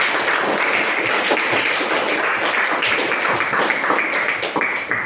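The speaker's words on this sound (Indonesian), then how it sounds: "berikan tepuk tangan kepada kelompok 1" A classroom breaks into sustained applause for group 1 after their presentation, many hands clapping in a dense, even wash that continues for several seconds.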